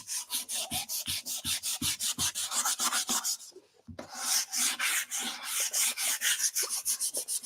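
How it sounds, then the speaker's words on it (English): Rapid back-and-forth sanding strokes rasp over a painted thrifted wooden piece to distress it, a steady rhythmic scrubbing with a brief pause midway before resuming, close and loud with no talking. "So if you notice, I'm distressing this one same as I did that one, going both directions."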